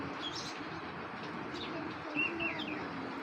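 Racing pigeons, including grizzles, murmur softly at a pigeon fair, with faint low cooing and a few brief chirps scattered through quiet background noise.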